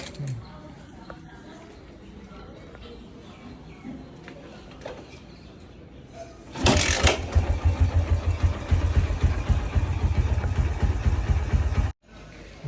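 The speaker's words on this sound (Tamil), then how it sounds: "ஒரே அடியில் வண்டி ஸ்டார்ட் ஆகிடுச்சு பழைய வண்டி தான்" An old vehicle's engine catches on the first crank, cutting in sharply as a loud, steady running roar after a quieter stretch of background noise with faint voices, then stops abruptly near the end.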